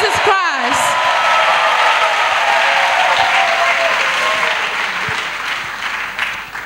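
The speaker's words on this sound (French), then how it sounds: "Let's clap for Jesus Christ." A church congregation breaks into sustained, loud applause with scattered cheers and whoops, steady throughout and fading slightly toward the end.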